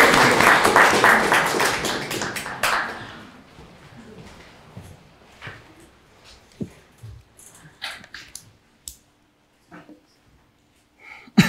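Audience applause at a high-school debate, a burst of dense clapping for about three seconds that quickly fades into scattered claps, shuffling and quiet room noise.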